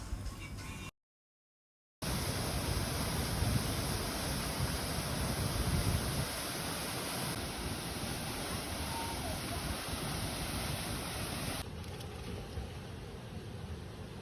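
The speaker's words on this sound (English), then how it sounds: "Standing here, you don't just hear the waterfall" A waterfall in tropical forest in rural Sri Lanka roars as a dense, constant rush of water, loud and close, broken only by a brief dropout near the start.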